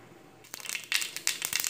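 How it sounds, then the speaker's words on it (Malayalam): Mustard seeds splutter and pop in hot oil in a cooking pan, making sharp, crackling bursts that come in quick irregular clusters, close and fairly loud. "അപ്പോൾ കടുക് പൊട്ടി വന്നിട്ടുണ്ട്."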